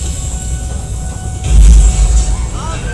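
A Universal Studios Hollywood studio tour tram rumbles along with a steady low drone, swelling louder midway through and then easing off, while people chatter throughout.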